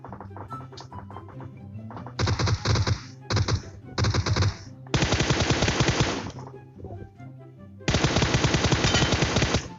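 Bursts of automatic gunfire in the PUBG Mobile battle royale game, with rapid close rattling volleys lasting a second or two each, separated by short pauses and scattered single shots, while players talk faintly underneath.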